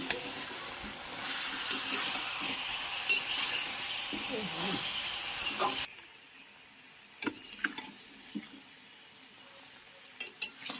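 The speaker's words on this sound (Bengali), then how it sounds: "এবারে কষিয়ে নেব লাউ দিয়ে" Hilsa fish and bottle gourd being sautéed in spiced oil, a bright sizzle with stirring scrapes for about six seconds before it drops to a quieter simmer with occasional utensil clicks.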